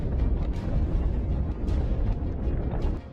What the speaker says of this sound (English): The grenade fulfills its mission, and flames erupt from the tank's hatches.